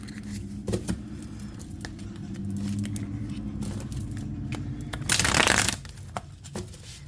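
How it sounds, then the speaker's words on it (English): A deck of cards being shuffled, with a soft rustling riffle building to a loud, bright burst of fluttering cards near the end, then a few light taps. "let me shuffle the deck and see what we get"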